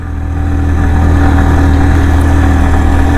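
A Yamaha R15 V3 motorcycle engine, running on RS4GP oil with about 3,700 km on it, drones loud and steady as it climbs a slope on a border road, with a constant close rumble and no talk.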